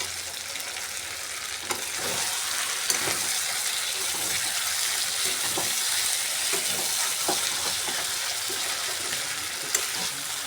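Sonali chicken curry masala with boiled potatoes being stirred and fried down in a pan: a continuous close sizzle with soft, irregular scraping strokes of the spoon, no talking.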